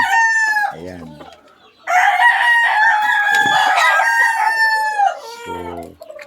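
Gamefowl roosters, a Moneymaker cross and a Boston Roundhead cross, crow loudly and close by. Several long crows overlap, with short clucks before and after.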